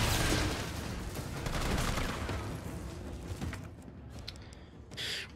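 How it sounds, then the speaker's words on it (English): Machine gun fire in the Resident Evil 3 Remake video game comes as fast, continuous bursts of rattling shots that start strong and fade to scattered pops, fairly quiet overall. "Alright, back to the machine gun we go."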